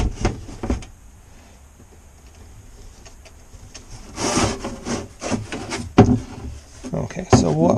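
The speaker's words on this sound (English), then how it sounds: "I'm going to grab a flashlight out of the old trusty bin." Rummaging through a storage bin for a flashlight while working on an Airstream trailer's fresh water system: close, irregular rubbing, scraping and knocking of items being shuffled, growing busier and louder toward the end.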